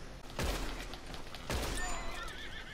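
A horse in the video game Red Dead Redemption gives two loud neighs about a second apart, each opening with a sharp burst and followed by a trailing whinny, with game ambience underneath.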